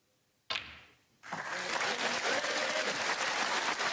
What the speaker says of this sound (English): Warmly applauded by the waterfront crowd.